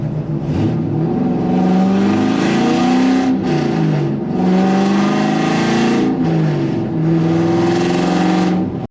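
A Corvette Z06 coupe with straight pipes accelerates hard on a highway, its loud, raspy exhaust climbing through revs with brief dips at gear changes, close and dominant for the whole stretch.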